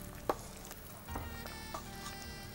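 Mushrooms go into a simmering biryani pot, giving a soft bubbling sizzle with a sharp knock near the start and a few light stirring clinks over a quiet background.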